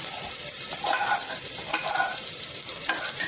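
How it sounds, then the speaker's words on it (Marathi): Crushed ginger and garlic fry in hot oil for a spicy village-style black-masala mutton, giving a steady, close hiss and crackle of sizzling with small popping spurts throughout. "मी तेल थोडंसं ना तापायला ठेवलं आहे आता ना याच्यात मी आपलं अद्रक लसूण जे ठेचलं ना ते पूर्ण घेते"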